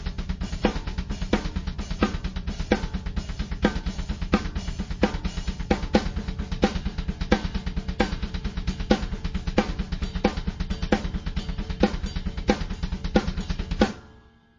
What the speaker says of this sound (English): I like to do a lot of things with my hands over top of the kick drums